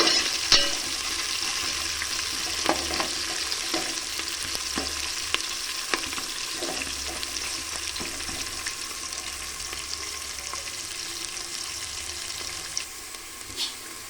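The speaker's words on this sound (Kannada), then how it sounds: "ಸ್ವಲ್ಪ ಎಣ್ಣೆಯಲ್ಲಿ ಬೇಯಿಸ್ಕೋಬೇಕು ಉಳ್ಳಾಗಡ್ಡಿ" Chopped onions fry in a little oil in a pan, a steady close crackling sizzle with scattered pops and light stirring scrapes throughout, no talking.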